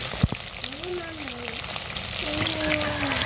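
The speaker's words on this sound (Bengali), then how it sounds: "আমার মাছটা কড়া করে ভাজা হয়েছে" Fish fries in oil with a steady, close crackling sizzle, and a soft voice murmurs faintly in the background.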